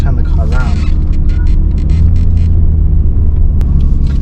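Nissan R32 GTR engine rumbling low and steady at close range while the car is turned around, with faint higher whirs above and a voice talking over it.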